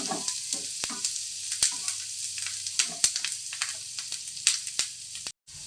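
Tempering spatters and sizzles in hot oil in a pan while palak paneer is being made, a steady close crackle with sharp pops scattered throughout and no talking.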